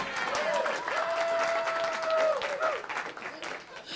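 Audience applause at a commission meeting, a steady patter of clapping lasting about three seconds before tapering off, with a sustained tone and room noise underneath.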